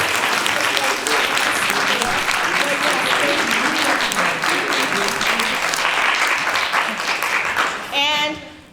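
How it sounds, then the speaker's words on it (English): A symposium audience applauds a panel with sustained, full clapping that holds steady, then fades near the end as a voice begins to speak. "can we give a round of applause again for our beautiful"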